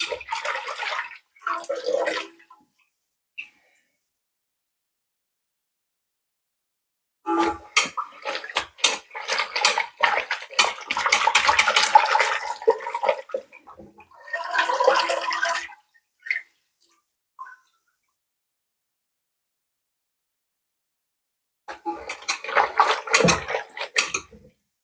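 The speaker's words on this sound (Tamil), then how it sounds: "இதை நம்ம ஃபஸ்ட்டு தண்ணியில் கழுவிக்கிறோம்." Pumpkin greens being washed in water by hand, with bursts of splashing and swishing separated by silent pauses, close and fairly loud, no talk.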